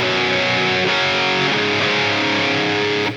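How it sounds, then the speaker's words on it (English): Electric guitar lead tone through a Helix wah pedal, a loud continuous distorted line with a sweeping, shifting tonal colour and no pauses. "Now you hear the sound with wah pedal and without wah pedal"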